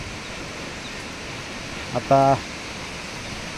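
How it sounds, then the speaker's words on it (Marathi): A waterfall with a drop of roughly 100 feet near Bhandardara, heard from the footpath leading to it, makes a steady, distant broadband roar, briefly interrupted by a single spoken word. "धबधब्याचा आवाज येण्यास सुरुवात झालेली आहे"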